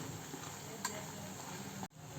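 Onion bondas deep-fry in hot oil with a soft, steady bubbling sizzle, close and faint, broken by one small clink and a brief stir near the end.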